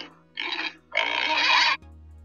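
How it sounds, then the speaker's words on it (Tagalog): Two rough, broadband pig grunts, the second longer and louder, with a brief pause between them and a low hum continuing afterward. "baboy"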